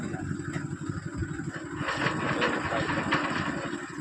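A tractor engine runs steadily in high gear, a continuous low mechanical drone with a slight rise in intensity partway through.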